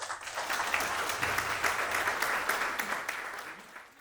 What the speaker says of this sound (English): Big round of applause for our third place contestant in our evaluation contest, Shan Weerakoon